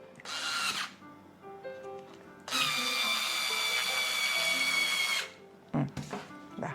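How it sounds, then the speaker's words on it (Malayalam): A power drill drives screws to join two MDF boards and a wooden stick for a lantern cake stand, with a short burst, a quieter pause, then a long steady whir of about three seconds and a final brief buzz. "ഞാനിപ്പോൾ ഇവിടെയുള്ള 2 MDF ബോർഡ്സും ഈ സ്റ്റിക്കും ഞാൻ ഇത് 3ഉം കൂടെ അറ്റാച്ച് ചെയ്യണേ സ്ക്രൂ വെച്ചിട്ട്."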